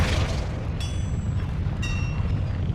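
Flipendo knockback spell in Hogwarts Legacy fires as a low boom with a sharp bright ringing onset, then a second chime-like hit about a second later over a dull game rumble.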